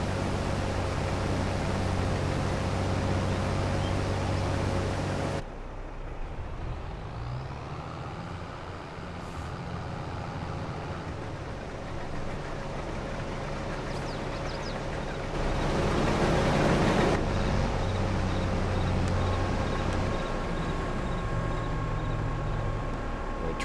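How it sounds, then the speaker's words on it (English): A vehicle engine idles in the video game Farming Simulator 22, a steady low droning hum that cuts to a quieter tone partway through and then swells again, with no talk. "Turn that engine off."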